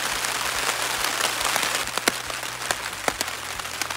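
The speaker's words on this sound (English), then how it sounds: "It's pouring." Heavy spring rain pours on the West Rim Trail: a constant, close hiss of downpour with individual drops tapping sharply on a nearby surface at irregular moments, and no talking.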